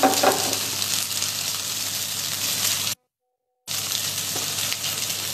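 Prawns pan-frying for a soy-sauce spicy prawn pasta give a steady, loud, bright sizzle throughout, broken by a brief silent gap midway before the frying resumes.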